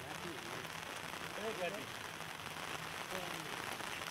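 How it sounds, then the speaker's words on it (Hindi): Continuous heavy rain in Amreli, Gujarat, a steady dense patter of drops on surfaces that fills the whole stretch, with muffled voices faintly in the background. "लगातार हो रही बारिश से ना पहाड़ छूते हैं ना मैदान"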